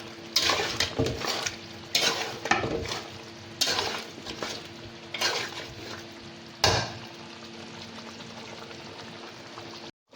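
Mutton karahi is stir-fried in a wok, giving repeated scraping strokes of a spoon or spatula against the metal over a low sizzle, with several bursts in the first seven seconds and then a quieter fry.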